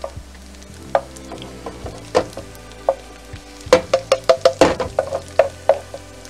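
Garlic sizzling in olive oil in a pan, a soft steady fry punctuated by crisp clicks and pops that cluster into a rapid run midway, close and alone without talk.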